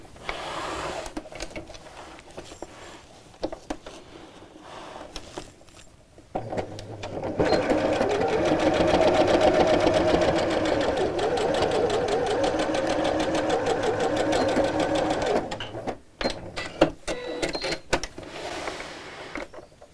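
A sewing machine sews straight across the corner of a zipped pouch, with scattered clicks and fabric handling before and after a single continuous run of about nine seconds of close, rapid stitching.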